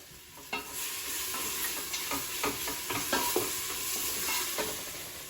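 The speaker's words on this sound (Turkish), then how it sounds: "salçamı ekleyeceğim bir kaşık. Domates ve biber salçası karışık." Tomato and pepper paste sizzles in a pan while being stirred, a steady close frying hiss broken by repeated spoon scrapes and taps.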